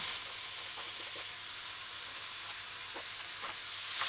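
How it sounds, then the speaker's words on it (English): Chopped scallion sautéing in a pan on a medium-low stove for a fish and baked beans stew, a steady hiss of sizzling oil with a few faint pops, close and continuous, no talk. "Just going to allow it to saute."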